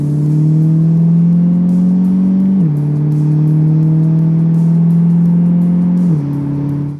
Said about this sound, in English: The great whine of a supercharger and a ton of extra top-end power.